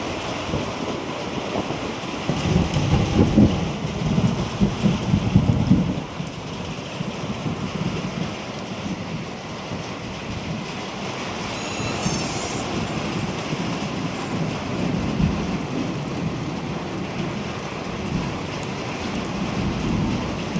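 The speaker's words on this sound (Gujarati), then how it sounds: "ફટાફટ વાતાવરણ ચેન્જ થઈ ગયું અને વરસાદ પણ ચાલુ થઈ ગયો." Steady rain pours down on a metal sheet roof with a dense hiss during a thunderstorm, and a deep rumble of thunder rolls through early on before fading back into the downpour.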